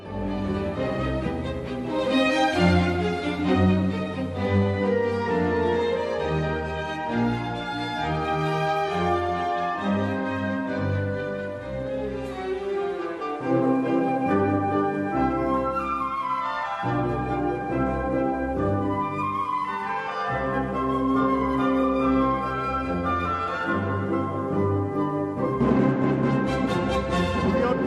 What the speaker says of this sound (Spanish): el concierto para piano y orquesta número 25 de Wolfgang Amadeus Mozart